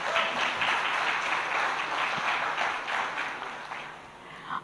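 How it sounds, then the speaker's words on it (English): Audience applause at the INFOCOM 2024 conference in Kolkata, a moderate, steady patter of many hands in a large hall that gradually thins toward the end. "Can we have a round of applause for that?"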